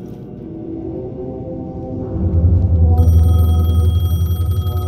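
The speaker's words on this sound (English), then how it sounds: "the phone was ringing." A telephone in Alan Wake 2 rings out over a low game ambience, its tone entering partway through and then sounding steadily and clearly over a droning rumble.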